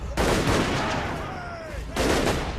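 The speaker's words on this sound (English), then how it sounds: "So the Empire's fielding a lot of artillery in this battle" Empire artillery fires in a Total War Warhammer battle: two heavy, booming volleys with crackling blasts and rolling rumble, separated by a quieter stretch of distant battle noise.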